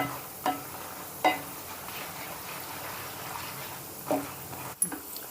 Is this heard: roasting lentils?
yes